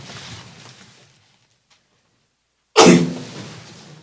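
One sharp, loud sneeze bursts out in a courtroom during a live court session, following faint murmuring and a short silence, then trails off quickly.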